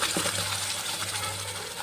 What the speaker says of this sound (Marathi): आणि याच्यामध्ये पाणी टाकून घेते